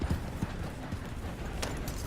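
Horse hooves clip-clopping at a steady walking pace in the video game Red Dead Redemption 2, soft and fairly close with a low ambient bed and no talk.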